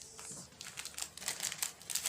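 Packaging of a watch box is opened, with soft crinkling and rustling of paper or plastic wrap, close and fairly faint, in short irregular bursts.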